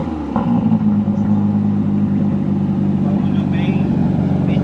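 Aston Martin DBS engine idling and revving with a steady low rumble, close by and continuous, with people talking over it.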